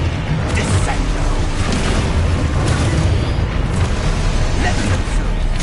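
A Descendo slam spell cast in Hogwarts Legacy on PS5 lands as heavy booming impacts within a dense, continuous wash of game noise, with a voice speaking over it.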